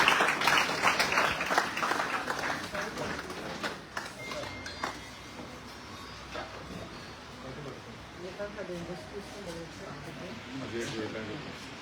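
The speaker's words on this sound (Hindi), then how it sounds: "डॉक्टर भारत भूषण जी का जोरदार तालियों के साथ स्वागत" Applause from an audience at a Hindi poetry recitation competition greets the chief guest, loud at first and then thinning into scattered clapping under an ongoing voice.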